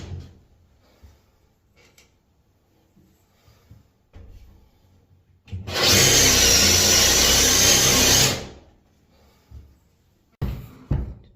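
A drill bores a 54 mm, 2 1/8 inch hole through a door for a door knob, a loud grinding whir lasting about three seconds between quieter handling knocks and taps.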